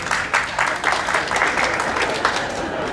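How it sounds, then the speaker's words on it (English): Audience at a comedy show on a Holland America cruise claps in a thinner, patchier burst, individual hand claps standing out in uneven rhythm, moderately loud, with a little crowd murmur mixed in. "Clap if you're under the age of 50."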